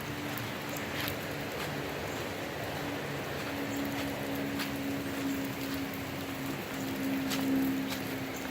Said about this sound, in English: Toot says it's raining.